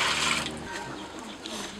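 Water splashes and pours briefly into a pot of catfish sancocho, a short gushing rush that fades quickly into quieter trickling.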